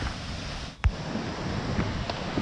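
Water rushes steadily at Tirathgarh waterfalls in Chhattisgarh, a continuous broadband roar close by, broken once by a brief low thump.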